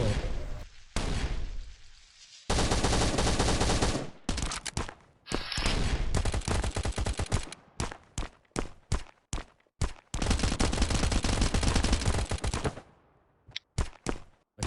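Rapid automatic gunfire from the survival shooter Last Island of Survival, with long sustained bursts and short stuttering volleys packed close together, loud and near, with a few isolated single shots near the end.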